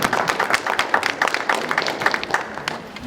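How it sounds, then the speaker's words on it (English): Steady round of applause from a seated audience at a winter high school commencement, many hands clapping in a dense, continuous patter that holds evenly throughout without any voices. "let's give them a round of applause"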